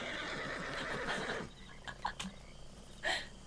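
A horse whinnies in a short, rising call near the end in the video game Red Dead Redemption 2, following a stretch of dense clattering noise with a few scattered sounds in between.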